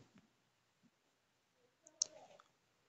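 A computer mouse clicks once, sharply and close, in a quiet room, with a couple of fainter ticks and a soft rustle around it and no talking.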